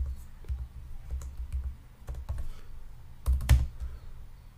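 Computer keyboard keys clicking in short irregular bursts while code comments are typed, close and fairly quiet, with a louder cluster of keystrokes near the end and no talking.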